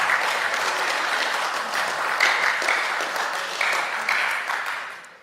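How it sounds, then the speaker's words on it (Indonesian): Applause fills a parliamentary committee hearing room, many people clapping together in a steady, dense patter that holds for several seconds and then begins to fade. "tepuk tangan dulu dong"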